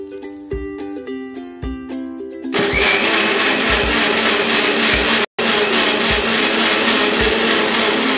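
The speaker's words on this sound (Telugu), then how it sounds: "ఇప్పుడు దీన్ని గ్రైండ్ చేసుకోవాలి." Home blender grinding an apple milkshake with ice cream and ice cubes: after a quieter start, the motor roars in loudly and steadily, cutting out for a split second before resuming at full power.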